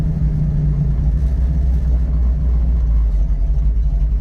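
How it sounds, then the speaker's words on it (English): A 1969 Ford Mustang rumbles loudly under hard braking, a steady low engine and road drone that holds throughout with no voices. "I'm gonna hit the brakes right now as hard as I can"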